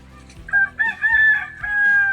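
A rooster crows loudly and close by, a drawn-out cock-a-doodle-doo with a few clucking notes at the start.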